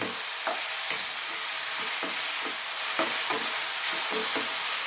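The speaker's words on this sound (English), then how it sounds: "let's just stir fry this on this high heat again, 2 to 3 minutes" Chicken with chili stir-fried in a wok over high heat, a loud continuous sizzle broken by regular scraping strokes of the spatula, close and alone without any voices.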